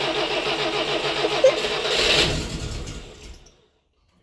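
An FSO Polonez 1.5 engine cranking and catching after several failed attempts, a rough starter whir building into a brief close-up engine note before cutting out abruptly.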